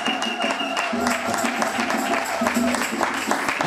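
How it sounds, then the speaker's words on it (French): A church congregation claps and cheers for the mothers, a steady wash of applause and acclamation filling the room, with voices and shouts mixed into the sustained clapping. "Encouragez les mamans par des acclamations."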